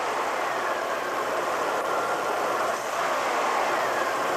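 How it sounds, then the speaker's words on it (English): A car engine runs and is revved slightly during a MAP and mass air flow sensor test, giving a steady, broadband engine roar with a brief dip partway through. "Now, I'll rev up the engine a little bit,"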